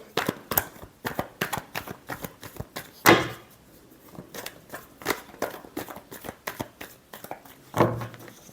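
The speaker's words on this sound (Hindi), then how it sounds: "Last shuffle." Tarot cards being shuffled by hand, a run of quick riffling snaps and soft slaps in bursts with short pauses, close and clear with no talking.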